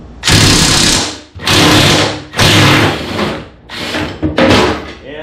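A heavy-duty Harbor Freight wrench works on an impact socket. Five loud, close bursts of grinding mechanical noise come one after another with short gaps between them.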